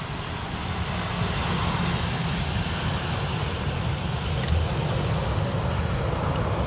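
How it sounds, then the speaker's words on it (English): A KLM Boeing 737 airliner arriving at Amsterdam Schiphol on the Polderbaan runway after a flight from Geneva, its engines roaring in a steady, broad rumble that holds loud and constant throughout. "our KLM, our national pride, coming in from Geneva to Amsterdam. It's a Boeing"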